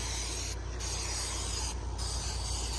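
Sawyer insect repellent sprayed onto clothing worn outdoors, a steady close hiss running almost unbroken with two brief dips in the high end, no voices.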